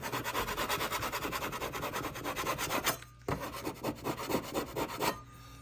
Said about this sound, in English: just scrape off the edges and leave it until this next step